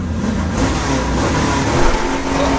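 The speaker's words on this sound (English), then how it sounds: "First gear pull, yeah?" 1969 Pontiac Trans Am Ram Air III with a 6.6L engine on a first gear pull, a loud close steady engine roar building slightly in pitch over a few seconds.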